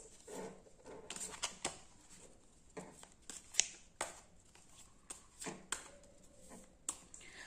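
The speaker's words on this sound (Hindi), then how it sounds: "So first let us shuffle the cards." Tarot cards are shuffled by hand in a quiet room, a series of soft, irregular riffling and slapping bursts with small taps between them, close to the microphone and faint overall.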